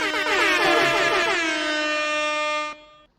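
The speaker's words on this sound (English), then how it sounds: "So I'm putting sweet DJ air horns over you right now." A loud DJ air horn sound effect blares on a live comedy stream, one long brassy blast that holds for nearly three seconds before cutting off abruptly, with no talk over it.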